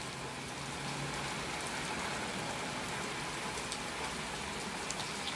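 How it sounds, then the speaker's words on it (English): Steady rain of medium strength falling outdoors on a stormy day, an even continuous hiss with scattered drop patter, moderately loud and unbroken throughout, no voices. "It's raining medium right now."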